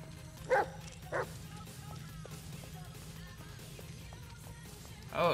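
Dog barking in the horror video game Blair Witch, three short bursts, two early and one at the end, over a steady low ambient drone with no talk.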